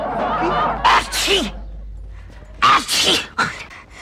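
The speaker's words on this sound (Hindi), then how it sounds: "शादी के बाद भी तुम इसी तरह छींकते रहोगे" A man sneezes repeatedly in a Hindi TV comedy scene, giving several sharp, loud bursts with short gaps between them, heard up close.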